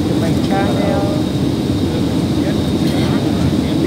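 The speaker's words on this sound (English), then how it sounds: "Dito kami sa United Airplane." Inside a United airliner cabin, a loud, constant engine drone and airflow hiss fill the space while a person talks over it.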